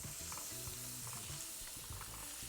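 Unsalted butter sizzling in a frying pan with leftover andouille sausage oil, a dense steady crackle close by with faint utensil scrapes and no talking.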